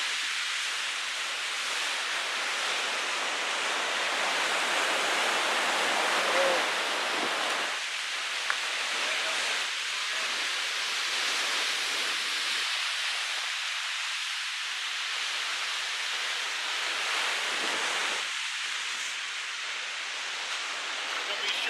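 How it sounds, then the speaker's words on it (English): Pacific Ocean surf and strong wind at Bodega Bay, a continuous broad roar of crashing waves and gusts that swells and dips throughout, loud and steady with no clear talk over it. "The ocean is very active."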